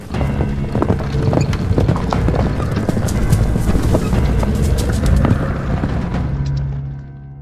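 Horse hooves clip-clop busily in the video game Endless Fables: Dark Moor, loud and close over a low rumbling backdrop, then fade out as the ride stops.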